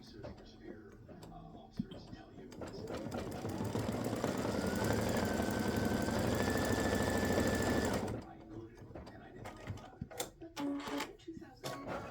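An embroidery machine stitches back over a finished design, a fast mechanical needle whir that rises and runs steadily for several seconds before stopping, with soft speech and light handling clicks before and after.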